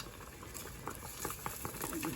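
Thick chile sauce for tamales frying in a pan, a steady bubbling sizzle with soft irregular pops and spatters throughout, close and fairly quiet, with no voices.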